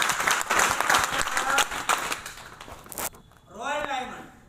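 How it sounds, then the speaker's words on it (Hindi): An audience at a training seminar gives a loud burst of clapping that fades after about three seconds, followed by a brief sung or tonal voice sound. "एक बार जोरदार ताली।"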